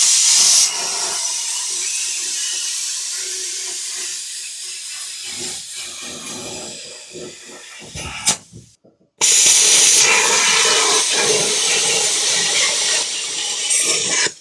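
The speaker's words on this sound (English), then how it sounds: "That's why I use the plasma cutter, man. That thing cuts that stuff like butter," A plasma cutter slices through steel during a truck chassis swap, giving a loud, steady hiss and roar that drops out briefly near the middle, then resumes at full strength alone.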